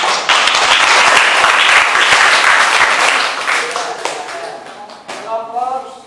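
Classroom applause during an arts and culture lesson: a loud, dense burst of clapping from a group of students that fades after about four seconds, followed by a voice speaking.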